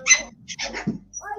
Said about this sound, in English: My wife's playing with the dog.